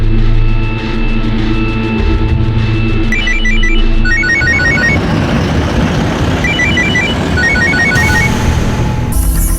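A telephone rings in repeated electronic trilling bursts over a loud, busy background rumble, the rings recurring through the stretch without speech.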